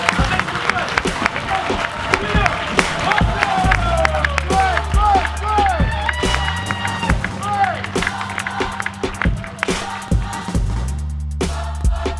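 An audience at a 2018 event on the science of ancient Kemet applauds and cheers, with sharp claps and crowd noise over music carrying a deep bass beat throughout.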